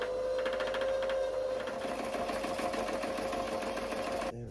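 A sewing machine winds bobbin thread with a steady, close mechanical whir and fast rhythmic ticking, running continuously before cutting off abruptly near the end.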